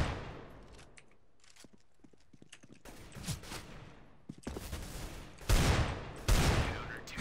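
Desert Eagle gunfire in the video game CS:GO, bursts of sharp shots that grow louder and denser toward the end, with quieter scattered clicks and footsteps in between.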